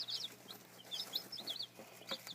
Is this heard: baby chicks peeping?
yes